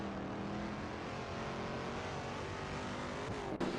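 A race car engine in a racing video game exits the pits at Horsma Raceway, a steady droning motor tone held at moderate level with a brief glitch near the end, no voices.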